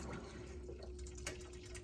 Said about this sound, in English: I'm adding hot water to this